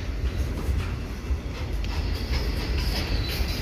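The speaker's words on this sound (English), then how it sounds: "Two trains in 2 minutes." A train rolls past with a steady heavy rumble and faint rhythmic clatter of wheels on track, moderately close, no voices.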